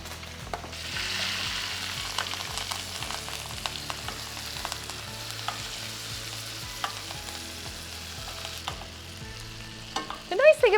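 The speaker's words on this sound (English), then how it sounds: "So in unsalted butter, garlic, thyme. It's gonna pop. It's gonna give you a little popping sound." Unsalted butter with garlic and thyme frying in a pan, a steady close sizzle dotted with small crackles and pops, stirring sounds throughout, and a louder burst of spattering at the very end.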